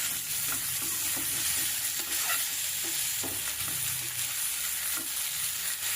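A spoon scrapes steadily through a mixture of leftover-rice mini idli and white sesame seeds in a hot pan, with a constant sizzle beneath the stirring.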